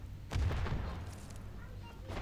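An explosion in the mobile shooter Standoff 2 thumps as a deep low boom, followed by a rumbling tail fading under faint game noise.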